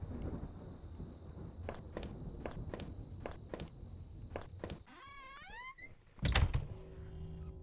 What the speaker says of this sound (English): Sounded like it was going to start raining again.